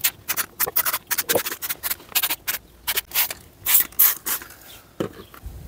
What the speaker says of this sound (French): Et là je sors ma brosse avec mon petit shampoing. Et je viens frotter tranquillement.